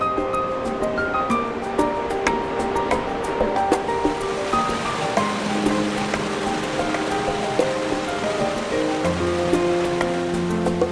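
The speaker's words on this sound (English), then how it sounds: "the churning waters suddenly turn into waterfalls." Water churns and rushes steadily in a continuous roar, turning into waterfalls in Guizhou, China, with splashing bursts and cascading pours layered throughout, close and fairly loud.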